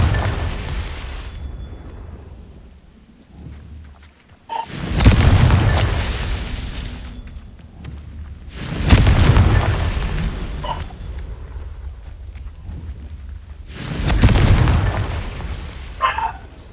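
Confringo spell blasts from the video game Hogwarts Legacy, three heavy booming explosions spaced several seconds apart, each a loud burst with a long rumbling tail, plus smaller pops and game effects in between.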